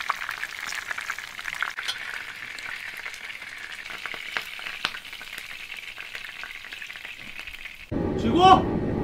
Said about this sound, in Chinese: 朋友们煎至两面焦黄以后就可以出锅了。